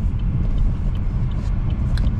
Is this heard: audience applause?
no